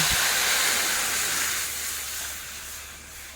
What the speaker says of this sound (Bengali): ওভেনে কড়াই বসিয়ে দিয়েছি, গরম হয়ে গেছে। এখন দিয়ে দেবো এর মধ্যে জল।